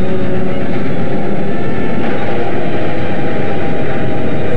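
A train runs in an old film serial, with a loud, continuous rumble and rail clatter that holds steady for the whole stretch and no voices.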